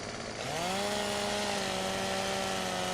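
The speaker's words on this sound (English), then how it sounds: "I'm just gonna have to cut them with the old chainsaw." Chainsaw cutting acacia trees in Farming Simulator 17, the engine revving up from idle into a steady buzzing drone that holds at high pitch, faint and continuous with no talk.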